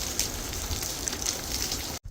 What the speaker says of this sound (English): Look at the rain we're having here in Vegas.